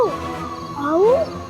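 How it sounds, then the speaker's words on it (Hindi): Roar of a fearsome mythical creature, rising and falling in long sliding howls that swell loudly near the end of the short burst, heard alone without talk. "ये तो हाउ का स्वर है।"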